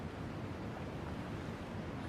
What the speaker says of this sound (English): towards the end you can hear waves